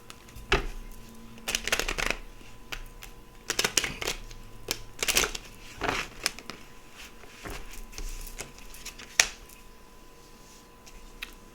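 Tarot cards are handled and shuffled close up in short bursts of riffling and slapping, separated by quiet pauses and a few soft taps, with no talking.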